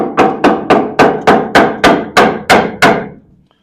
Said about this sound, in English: I got to get my hammer.